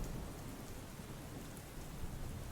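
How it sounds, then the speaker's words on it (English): Steady rain pours down as an ambient backdrop for a tabletop game session, a constant dense hiss with no voices over it. "the rain pours down upon you."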